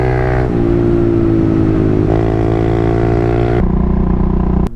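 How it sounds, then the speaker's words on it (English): A Kawasaki KLX pit bike engine revs hard and close in the desert hills, holding a loud buzzing drone that steps up and down in pitch through gear changes before cutting off abruptly at the end. "We got the little pit bike out here."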